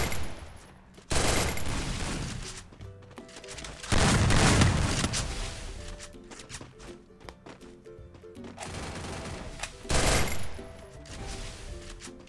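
Shotgun fire in the Free Fire video game: loud, dense bursts of rapid gunfire come in several waves with short quieter gaps between them.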